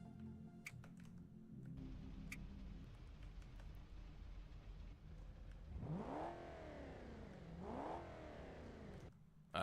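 A modded car in a video game revs its engine with intake noise, rising and falling twice in sweeping whooshes over a low drone, with light keyboard clicks earlier, all fairly faint.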